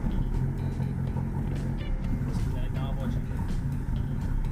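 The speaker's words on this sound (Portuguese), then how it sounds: "Cold start" A VW Gol Turbo cold-starts and settles into a rough, low idle nearby, while people talk over the engine rumble.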